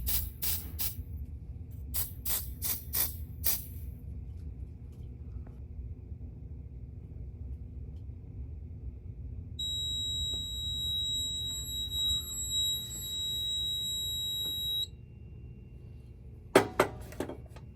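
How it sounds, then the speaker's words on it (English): A home smoke detector set off during an annual fire alarm system test sounds a steady high-pitched electronic tone for about five seconds, heard over a low rumbling room hum with clicks and handling noises. "We will now activate our smoke detector"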